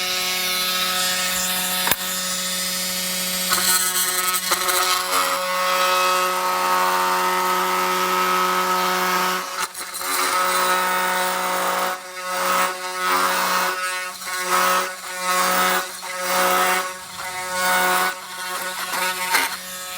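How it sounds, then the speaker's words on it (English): A saw cuts around the plastic shell of a Harley-Davidson fairing lid, a loud continuous grinding rasp that later breaks into repeated short strokes with brief pauses. "I'm just going to cut straight down all the way around through here and just kind of get this loose so we can separate the shell."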